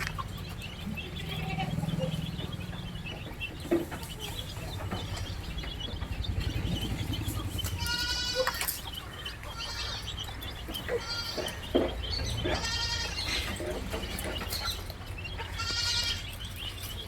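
Crossbreed goats on a farm bleat repeatedly, several loud wavering calls from close by in the second half over a steady background hum, with a faint bird call.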